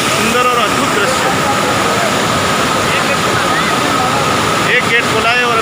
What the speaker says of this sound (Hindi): एक गेट खुला है और अभी देखिए पानी तो यहाँ से जाता हुआ कैसे दिख रहा है।